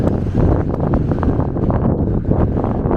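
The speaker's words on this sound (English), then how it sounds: "I'm going to turn around into the wind, so maybe a bit windy" Steady, loud wind buffeting the microphone on the highest point of Valentia Island, Ireland, a continuous low rumbling roar with gusty surges throughout and no voices.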